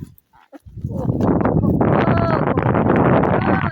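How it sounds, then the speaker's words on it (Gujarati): Strong gusts of wind buffet the microphone in a loud, rumbling roar that rises after a brief quiet start and stays heavy throughout. "ધાર ઉપર પવન આવ્યો"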